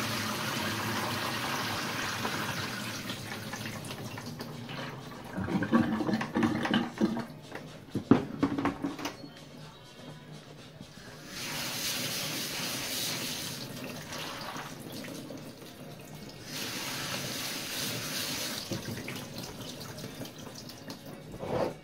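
Water drains off vegan kimchi ingredients in a kitchen sink, a soft running trickle with splashes and drips that comes and goes in several bursts, fairly quiet.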